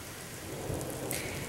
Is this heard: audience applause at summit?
no